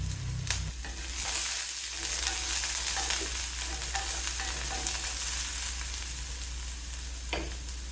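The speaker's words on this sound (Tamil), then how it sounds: "ஒரு 1/4 கப்பு பொடிசாக வெட்டின வெங்காயம், ஒரு கொத்து கருவேப்பிலை எல்லாம் சேர்த்து வதக்கணும்." Chopped onion, green chillies, garlic and curry leaves sauté in a pan, giving a steady, loud sizzle with stirring scrapes and a clatter at the start and near the end; no one speaks.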